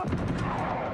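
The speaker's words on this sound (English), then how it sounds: "Can I get this nade to just take them all out?" A grenade blast in the video game Uncharted: Golden Abyss, a loud dense burst of booming gunfire-like noise that fills the whole second without letting up.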